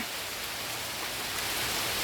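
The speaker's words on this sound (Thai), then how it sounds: "ได้ยินเสียงฝนไหมคะ ฝนตกแดดออกไปด้วยอีกต่างหากนะวันนี้นะ" Rain falls steadily on a windy day while the sun is out, making a continuous even hiss with no voices.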